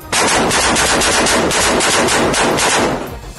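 Rapid sustained automatic gunfire from soldiers shooting at a house during a military raid in a Hamas stronghold, loud and close, a continuous burst of dense shots for about three seconds before tapering off.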